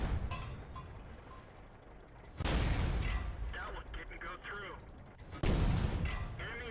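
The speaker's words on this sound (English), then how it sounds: "Use this machine gun cannon on him." Cannon fire in World of Tanks, with two loud broadband bursts against a low rumbling battlefield background and some talk.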